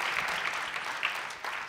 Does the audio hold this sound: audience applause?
yes